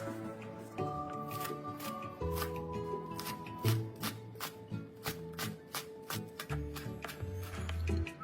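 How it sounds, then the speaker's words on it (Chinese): A knife chopping taro into cubes and scallions into small bits on a cutting board, rapid sharp knocks in uneven bursts with brief pauses, close and clear over soft background music. "芋头切成方块状。 青葱切成小颗粒。"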